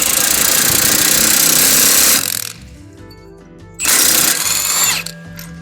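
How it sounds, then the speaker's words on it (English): A 21 mm impact wrench tightening wheel studs on a Nissan 350Z, two loud close bursts of rapid hammering separated by a short pause. "hit it with your 21 millimeter impact"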